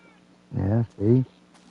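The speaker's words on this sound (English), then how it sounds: "Yeah, see? I can hear the cat." A cat meows twice in quick succession in Power Wash Simulator, two clear mid-pitched cries with a short gap between them, heard over a low steady hum from the game.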